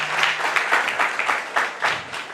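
An audience applauding at a community gathering, a steady burst of dense clapping that pulses slightly throughout.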